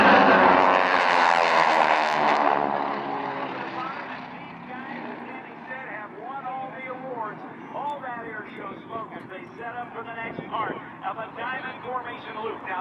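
An air-show aircraft with a nine-cylinder radial engine drones loudly overhead at first, then fades into a distant hum under a crowd's chatter and nearby voices.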